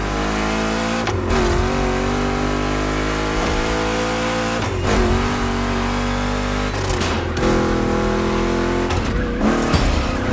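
Two big-block Chevy cars race in The Crew Motorfest video game, their engines roaring loud and close throughout. Harmonic tones rise steadily, then drop abruptly at each gear shift or lift, with occasional tire squeal.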